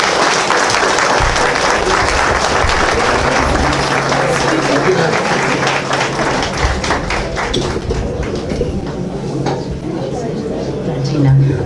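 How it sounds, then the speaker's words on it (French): Loud applause from an audience at a Haitian cultural night with a contest, sustained dense clapping that gradually thins toward the end, with voices under it. "On applaudit un petit peu plus fort pour Dajina, s'il vous plaît."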